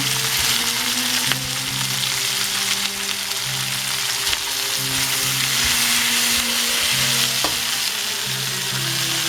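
Tomato goes into a hot frying pan of shrimp, giving a steady close sizzle with faint stirring scrapes throughout.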